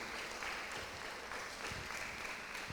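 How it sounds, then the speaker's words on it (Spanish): Church congregation clapping during a Spanish-language worship service, a dense and fairly faint patter of hands that holds steady throughout with no voices on top. "Dale otro fuerte aplauso al Señor"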